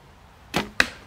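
An arrow shot from a bow at balloon targets outdoors: a quick release thump followed a moment later by a second sharp crack, close and isolated with no talking.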